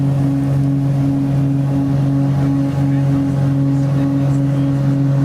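An airliner powers up and accelerates down the runway for takeoff, giving a loud steady engine drone with strong low tonal hum that holds throughout.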